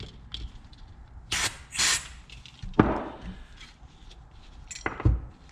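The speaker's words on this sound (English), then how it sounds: "let me put some brake cleaner in there" Brake cleaner sprayed from an aerosol can onto a stuck pressure washer part, heard as several short hissing bursts at close range, broken up by clunks and handling noises, with no talk.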